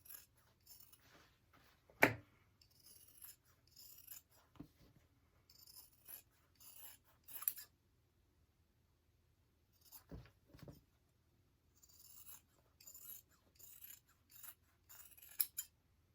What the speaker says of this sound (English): I'm also going to trim down my corners.